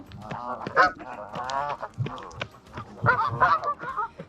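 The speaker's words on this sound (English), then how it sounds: "There's no one else around, but all of these geese." A flock of geese honks repeatedly and close by during an outdoor marathon training run, the overlapping nasal calls coming in quick irregular bursts with no talking.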